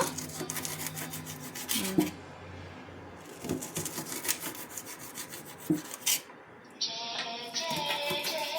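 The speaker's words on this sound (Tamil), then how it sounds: "அந்த பெரிய வெங்காயத்தை சின்னதாக வெட்டிடு." Knife slicing a large onion laid flat on a cutting board: rough rasping strokes in quick, uneven bursts, close and fairly loud, with a short pause and a bright hiss near the end.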